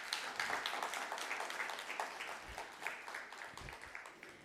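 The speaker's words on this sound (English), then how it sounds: "Another round of applause, please." An audience at an evening celebration honoring a leader breaks into a steady wash of applause, dense overlapping claps sustained throughout at moderate level with a few low thumps.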